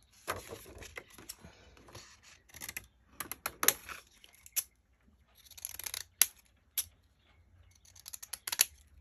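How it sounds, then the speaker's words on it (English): Craft scissors held upside down snipping paper to cut a stamp-style edge for embossed bags and envelopes, a series of close, crisp, irregular snips and clicks with quiet gaps between. "This time I'm turning my scissors upside down and I'm getting this stamp look."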